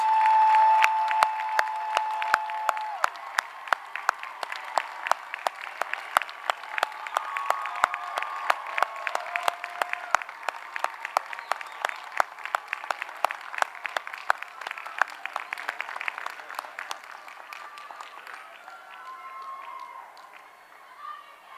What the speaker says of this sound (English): please join me in a big round of applause for our graduates.